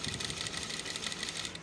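A sewing machine runs continuously while stitching the leg seam of a gents' trouser side pocket. The rapid, even mechanical whirr is faint and steady throughout, with no talk.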